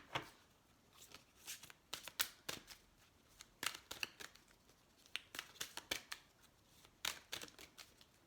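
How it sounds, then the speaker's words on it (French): Oracle cards shuffled by hand, a rapid run of crisp riffling flicks and taps in irregular bursts, close and fairly soft with no talking. "on va mélanger les cartes comme il faut"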